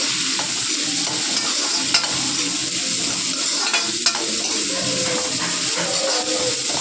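Puri frying in hot oil on a stove gives a steady, loud sizzle with soft bubbling crackle throughout, no talking over it.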